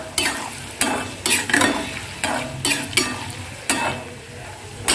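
Chutney ingredients fry in a pan and are stirred with a utensil, giving about ten sharp scraping strokes in an uneven rhythm over a steady soft sizzle, close up with no voices.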